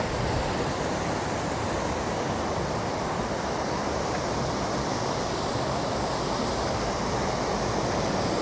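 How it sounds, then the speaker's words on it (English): A constant loud roar of rushing, falling water fills the whole stretch, broad and unbroken, with no talking. "this is where the upper falls are"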